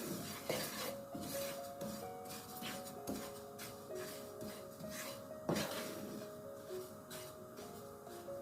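Fennel seeds are stirred while roasting in a pan on the stove, with soft continuous scraping and rustling, a light sizzle, and occasional faint clinks of the utensil against the pan.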